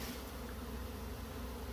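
Bees hum around freshly built comb inside a storage unit during a removal, a faint, steady, continuous buzz with no breaks and no voices.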